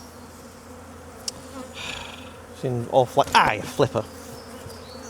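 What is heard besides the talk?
honey bees flying around hive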